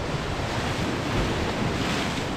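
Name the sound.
sea waves crashing on a rocky coast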